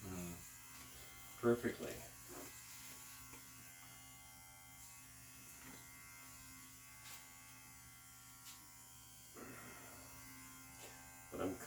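Electric hair clippers set to a one-inch guard buzz steadily while cutting hair during a home barber service, a low constant hum running throughout with brief louder bursts and someone talking over it.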